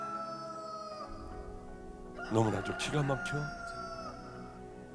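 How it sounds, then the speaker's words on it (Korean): A rooster crows loudly and clearly in the middle, its harmonic call standing out over a sustained musical backdrop, while someone speaks before it. "바로 닭울음 소리가 들려요."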